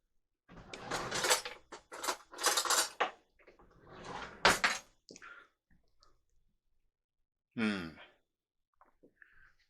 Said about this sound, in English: And then you scoop out the seeds.